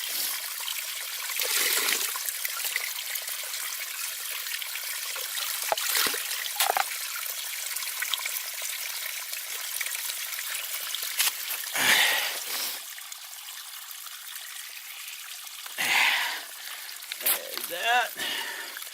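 Cooking water poured from a container into a reused plastic Smart Water bottle at a mountain cabin campsite, close up, in gurgling bursts with short pauses between pours.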